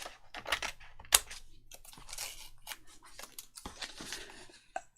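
Scissors snip through paper in quick, close, crisp cuts, a run of short bursts with brief pauses between them, fairly quiet and with no talking.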